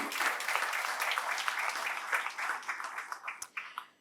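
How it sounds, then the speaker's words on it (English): Audience at the inaugural session of the India School of Internet Governance applauding, a sustained crowd clap that tapers off into a few separate claps at the end. "Can we have a round of applause, please, for all of you here?"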